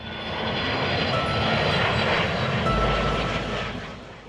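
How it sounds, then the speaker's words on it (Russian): Jet aircraft engines roar at Faro airport in Portugal, a steady loud rumble that swells and then eases over a few seconds, with no voices. "Шум реактивных двигателей"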